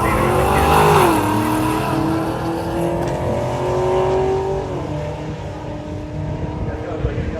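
A car with an LS V8 engine swap runs at a drag racing event, a loud low engine drone that rises and falls in pitch as it passes, with crowd and announcer chatter underneath.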